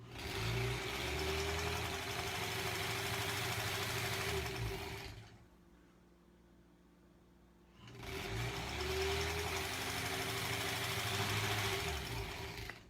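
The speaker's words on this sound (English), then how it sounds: "I just kind of sew, and then just kind of sew off a little bit like that" Domestic sewing machine stitching granny square quilt pieces in two steady bursts of motor whir, close and even, separated by a few seconds of near silence.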